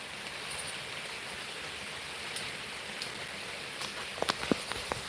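Rain pours in a constant, dense hiss close by, with scattered sharp drips and splashes clustering toward the end, and no one speaking.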